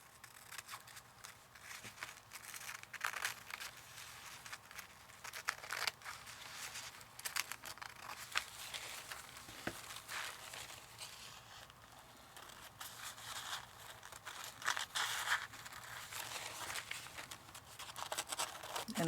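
Scissors snip through a thin paper napkin in short, quiet cuts and faint crinkles, close by and soft, with no talking.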